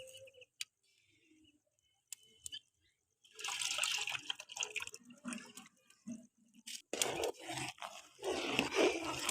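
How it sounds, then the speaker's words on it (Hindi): Water for Chinese-style rice heats in a cooking pot, with a few sparse clicks and drips at first, then a steady bubbling hiss of boiling that grows louder and denser. "पानी हमारा पक रहा है।"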